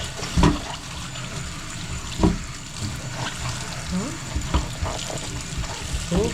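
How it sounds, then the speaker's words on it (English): A giant harvested garden vegetable is washed in water, with sloshing and splashing in irregular bursts and running-water noise close by; a voice is faintly present. "Let's give this giant a good wash."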